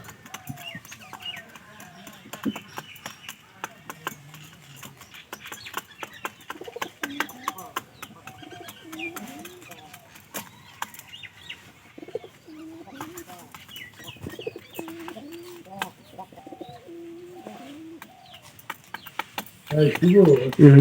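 Soft pigeon cooing repeats in short phrases throughout beside a pigeon house at feeding time, mixed with scattered clucks and scuffling, with some talk nearby and a louder rustling burst at the end.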